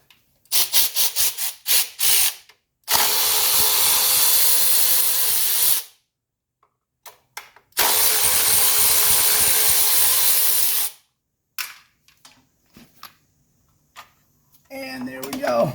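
Linkage parts come off the valve cover of a 1983 Mercedes 300D in close, clicking and rattling handling sounds, with two long, loud hissing power-tool bursts in between.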